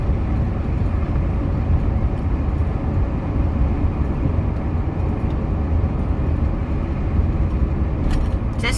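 A car drives with its window down along rural Iowa country roads on a hot day, its road rumble and wind buffeting filling a loud, steady drone from inside the cabin, with a few light rattles near the end.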